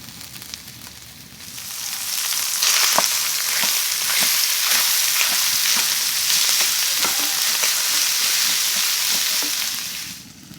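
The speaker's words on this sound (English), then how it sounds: "toss in the spaghetti and warm up the spaghetti in the frying pan" Loud, continuous sizzling from spaghetti frying in a pan inside a hot tent, rising after a quieter start, with frequent light clicks of stirring, then fading at the end.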